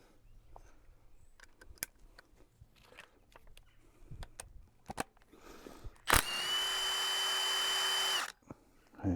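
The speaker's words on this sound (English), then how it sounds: "Whilst we undo this bolt here." A power tool, likely a drill-type driver, runs in one steady burst of about two seconds, undoing a 6mm bolt on a Honda VFR 800 motorcycle fork, preceded by faint workshop clicks and handling noises.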